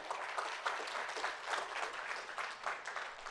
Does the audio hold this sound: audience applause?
yes